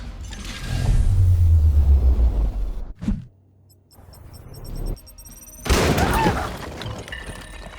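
A grenade detonates in the turn-based strategy game Chaos Gate: Demonhunters, a loud booming blast with a deep rumble that lasts about two seconds, then a short sharp crack, quieter debris sounds, and a second bright burst of noise.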